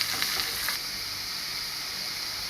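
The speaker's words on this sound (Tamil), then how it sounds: "கோல்டன் ப்ரௌன் ஆகிற வரைக்கும், பொன்னிறமாக ஆகிற வரைக்கும் நல்லா வதக்கிக்கோங்க" Chopped onions and cumin seeds sizzle steadily in a hot pan, a constant close hiss with a few brief stirring rustles at the start.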